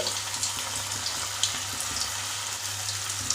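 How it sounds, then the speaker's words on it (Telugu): Veg manchurian balls deep-frying in hot oil, a steady loud bubbling sizzle with broadband hiss and occasional pops, continuous throughout without speech. "ఆయిల్లో ఎన్నైతే పడతాయో అన్ని వేసుకుందాం బాగా ఎర్రగా ఫ్రై చేసుకోవాలి"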